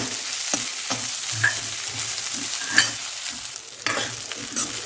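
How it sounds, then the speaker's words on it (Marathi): Soaked rice frying in ghee in a kadhai for coconut sweet rice, stirred continuously: a steady close sizzle broken by regular scraping stir strokes, with no talking. "अर्धा मिनिट मी मस्त तांदूळ फ्राय करून घेतले आहेत तुपामध्ये"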